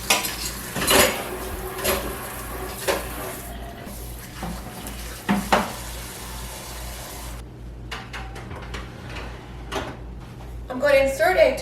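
Clinking dishes and cutlery being washed up and put away in a kitchen after blueberry muffins go into the oven, with scattered knocks and clatters, a faint drawer sound and a steady low hum underneath.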